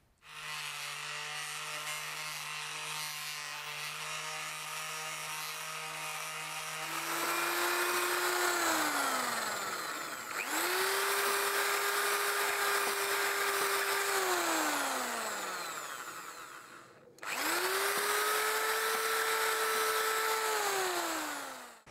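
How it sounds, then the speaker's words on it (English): A chainsaw file spun in a drill grinds inside holes in wood while building a mason bee hive, a whining drill with pitch rising and falling through three long runs separated by short pauses. "I will polish the inside of these holes here with a chainsaw file that I use in my drill"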